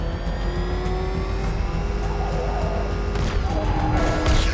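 Car in Batman: Arkham Knight driving steadily with a continuous engine drone and rising whine, a sharper burst of mechanical noise and rumble near the end; no talk.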